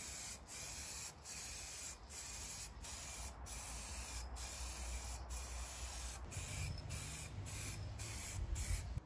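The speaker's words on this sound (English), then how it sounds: "now we're on to the third and final coat, hopefully, of base coat." A spray gun lays down a wet, glossy base coat on an ST150 motorcycle being prepped for vinyl wrap, with repeated hissing bursts of spray broken by short gaps and a low background rumble, no speech.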